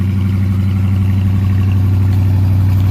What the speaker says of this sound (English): it does come with the active exhaust, so it has a little more rumble to it